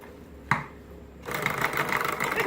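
Electric mixer fitted with two mismatched beaters, one a whisk, clattering and rattling steadily in a bowl of potatoes after a single sharp knock, fairly quiet and close.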